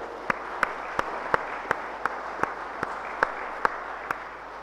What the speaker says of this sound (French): Alors nous voulons les applaudir aussi très fort